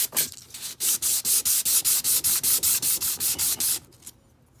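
Knife scales are hand-sanded with sandpaper in a workshop: about sixteen quick, even back-and-forth rasping strokes, close and crisp, then the rubbing stops.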